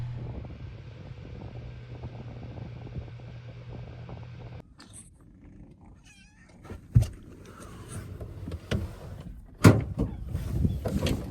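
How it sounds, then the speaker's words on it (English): A kitten meows inside a truck camper at night, faint high cries over a low fan-like hum, followed by thumps and rustles of movement and a few sharp knocks. "Started moving around a bunch and meowing all the time."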